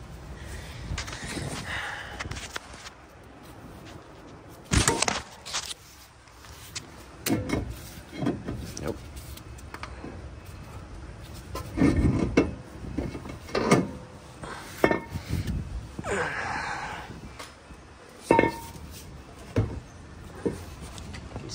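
A heavy cross-drilled, slotted and dimpled brake rotor is worked off the front hub of a 2008–2013 Infiniti G37 coupe, giving close metallic clunks, scrapes and knocks in irregular bursts with no talk.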